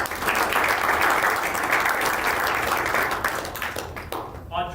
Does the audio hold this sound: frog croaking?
no